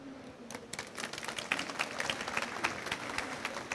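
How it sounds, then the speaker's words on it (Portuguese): Applause from a conference audience at a startup talk in Brazil, a moderate patter of clapping that swells after a quieter start and carries on steadily with no voices over it. "Palmas para mim."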